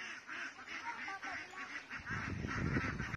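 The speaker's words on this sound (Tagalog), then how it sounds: "Marami akong bibing nakita. May nakaitim na bibe." Ducks, including a black one, quack in a rapid repeated chorus at moderate distance, with louder rustling and splashing noise near the end.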